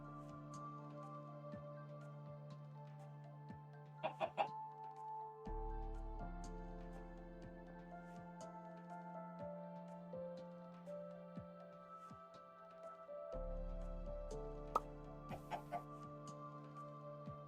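Chicken clucking in the video game Minecraft, a few short clucks heard faintly against sustained background game music with shifting tones.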